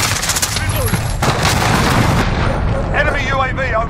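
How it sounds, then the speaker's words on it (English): A cruise missile strike in Call of Duty Warzone lands as a loud, sustained roar of blasts and heavy gunfire that fills the whole moment, then tails off beneath a voice near the end. "Cruise missile incoming!"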